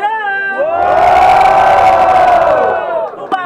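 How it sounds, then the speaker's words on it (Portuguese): A crowd at a student rap battle final roars and shouts loudly, a dense, close wall of cheering that holds for a few seconds and then quickly fades. "Quem gostou das rimas do Barreto faz muito barulho!"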